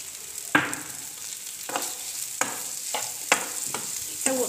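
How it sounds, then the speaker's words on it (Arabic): Carrot pieces frying in butter in a pan, a constant close sizzle broken by several sharp scraping stirs. "الزبده ها هو حتى هو كيتقلى ليا في الزبده"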